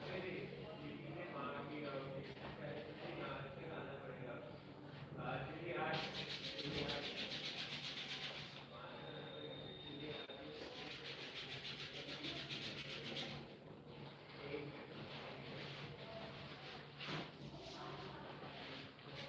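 Palms of the hands rubbed briskly together during a yoga class, making a close, continuous dry friction with a few louder bursts, while a voice speaks at times.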